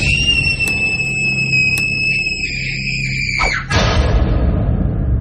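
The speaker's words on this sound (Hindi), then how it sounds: "चीख ही निकल गई।" A scream sound effect in a spooky narrated children's story: one long, loud, high-pitched shriek held for several seconds before it cuts off abruptly into a noisy rumble.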